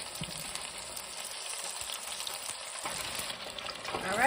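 Breaded chicken breasts fry in hot oil with a steady, close crackling sizzle that holds throughout and swells slightly louder at the end; no talking.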